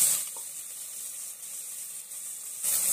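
Onion frying with potatoes in a pan for a vegetable omelette, giving a steady, moderately close sizzle that holds evenly throughout with no talking.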